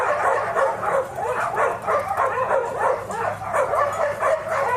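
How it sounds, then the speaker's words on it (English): Several dogs bark and yip in a continuous, overlapping chorus from a short distance away, steady and moderately loud throughout with no talk over it. "all them dogs that are over there raising cane"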